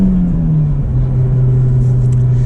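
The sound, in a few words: 2024 Honda Civic Type R accelerating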